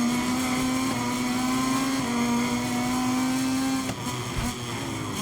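A racing motorcycle in MotoGP 23 at Jerez screams at high revs with a steady engine whine, then the pitch drops as it brakes hard near the end, loud and continuous without talking.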